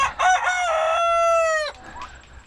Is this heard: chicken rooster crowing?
yes